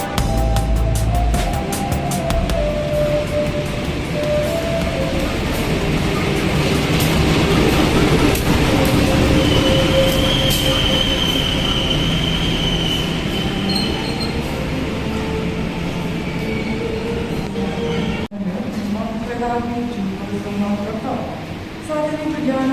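A KA Joglosemarkerto passenger train runs on rails out of Semarang Tawang, giving a steady, loud rolling rumble with a brief dip near the end while someone speaks over it throughout.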